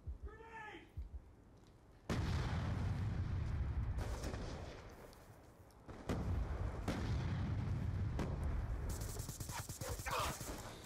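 Frag grenade blasts in Black Ops 2: two heavy, close booms land a few seconds apart, each a sudden loud burst that rumbles and fades, mixed with scattered gunfire and game noise.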